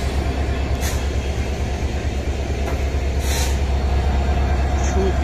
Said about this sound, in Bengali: দেখতে পাচ্ছেন সান্থার রেলওয়ে স্টেশন থেকে ছেড়ে দিল।